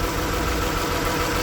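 A 2008 Mazda CX-9 engine idles steadily at close range, a constant low rumble with no change in pitch throughout and no voices.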